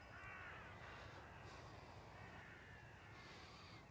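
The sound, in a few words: crow cawing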